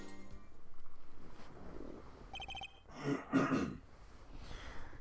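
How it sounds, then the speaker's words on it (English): A character clears their throat in the Apollo Justice: Ace Attorney courtroom game, a single short gruff burst past the midpoint over quiet game ambience with faint chimes. "I'm always clearing my throat."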